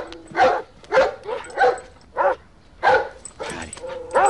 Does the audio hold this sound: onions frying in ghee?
no